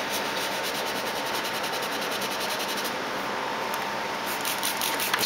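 Wet sanding of putty along the hull seam of a Moebius Seaview submarine movie-edition model kit, a steady close-up abrasive rubbing hiss running unbroken throughout.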